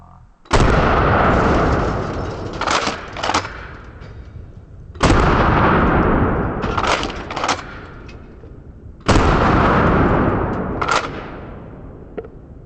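Mossberg Shockwave 12 gauge shotgun firing double-aught buckshot, three loud booming shots spaced about four seconds apart, each followed by a short rattling echo and trailing rumble, with no voices.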